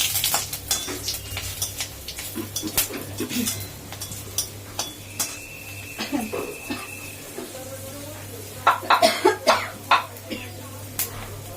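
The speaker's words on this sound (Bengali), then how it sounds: "এখন কটা শুকনো লঙ্কা ফোড়ন দিলাম" Dry red chillies are tempered in hot oil for masoor dal with jute leaves. A soft crackling sizzle sits under sharp utensil clicks and clatter, with a cough and a short thin tone partway through.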